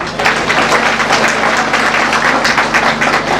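Dense, steady applause from a crowd, many hands clapping together continuously and loudly throughout.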